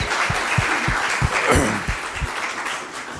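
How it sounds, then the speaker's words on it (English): Audience applause at the close of a talk on writing ISB admission essays, a broad wash of clapping with heavier individual claps standing out near the front, fading slightly toward the end. "a round of applause to you and for people watching online"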